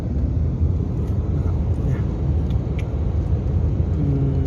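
A car drives along a mountain road between Wang Muang in Saraburi and Pak Chong in Nakhon Ratchasima, a steady close engine and tyre rumble heard from inside, with no talk.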